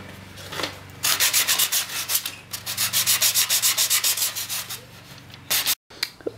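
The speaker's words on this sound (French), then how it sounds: "on va passer un petit coup de cale à poncer, donc pour que ce soit bien lisse" A sanding block rubbed over a wooden bow, giving a steady series of rhythmic rasping strokes, close and fairly quiet, with no voices.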